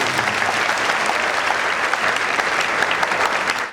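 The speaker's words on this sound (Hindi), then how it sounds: "प्लीज जोरदार तालियां हो जाए एसीपी रूबीना मैम के लिए।" Loud, sustained applause from a seminar audience, honouring a police ACP at a career guidance event, a dense steady roar of many hands clapping at close range for the whole stretch before cutting off.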